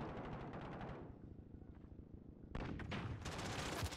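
Rapid bursts of gunfire from a shotgun-armed player in the video game Modern Warfare, a dense run of shots fading into sparse pops, then a fresh loud volley of close reports.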